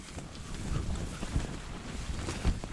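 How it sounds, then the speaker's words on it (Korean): Strong wind blows at a winter backpacking tent campsite in October. It makes a rough, gusty rumble and buffeting, swelling and easing in uneven bursts with no voices. "바람이 여기 장난 아닌 것 같아"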